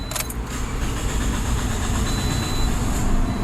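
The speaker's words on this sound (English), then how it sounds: "Let's start the engine and watch this thing not misfire." A car engine cranks briefly and catches, then settles into a steady, loud, even idle that fills the rest of the stretch, with no talking.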